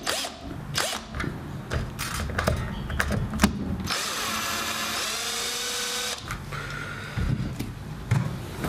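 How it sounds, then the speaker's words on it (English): Whirring bursts of a power driver backing out the bridge screws on a John Mayer Fender Stratocaster, with a longer steady run in the middle and short clicks and handling noises around it, close by with no talking. "since there is still some spring tension on the bridge, I'm going to do these two at a time. I'm going to unscrew them."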